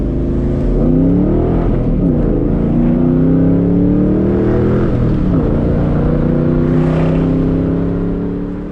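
A 1999 Ford Mustang GT heard from inside on a road drive, its V8 droning loud and steady, with engine pitch rising and falling through several gear changes.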